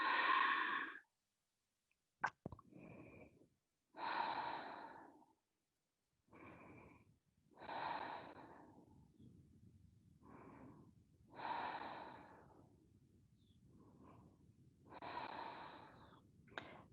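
Slow, audible breaths during a yoga downward facing dog pose, about five soft cycles of breathing in and out, each lasting a second or two with quiet gaps between them, close and alone.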